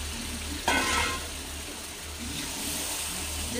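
A large batch of chicken, about one and a half kilos, drops into hot oil and spiced masala. It makes a sudden louder sizzle burst, then settles into steady close frying hiss with faint stirring. No voices.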